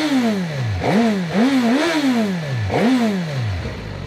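A 2024 Suzuki GSX-S 1000 GT motorcycle engine revved repeatedly, several loud rising and falling blips close by, each climbing sharply then dropping back toward idle.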